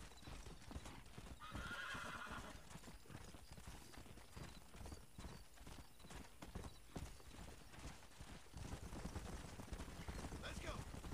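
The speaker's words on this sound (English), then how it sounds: "Come on, horses! This way." Herd of horses galloping in the video game Red Dead Redemption, a busy stream of hoofbeats with occasional neighs and whinnies, continuous and close, while a player talks over it.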